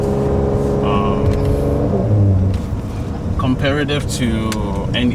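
Interior noise in a 2020 Porsche 911 Carrera S while driving: steady engine and road roar with tonal engine drone, fairly loud, under continuous talk from a person in the car.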